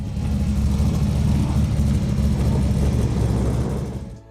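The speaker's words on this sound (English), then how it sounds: "The Chevrolet LS V8 engine is a family of small block V8 and V6 engines designed and manufactured by General Motors." A Chevrolet LS small-block V8 from General Motors revs loud and close, a dense steady engine roar holding for about four seconds before easing off at the end.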